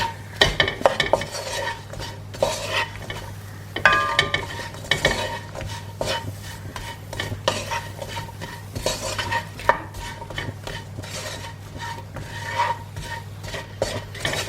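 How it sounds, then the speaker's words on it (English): Prawn curry being stirred in a pan with onions, a steady scraping of utensil against cookware over a low continuous hum, with faint sizzling throughout and no talking. "give that a bit of a stir"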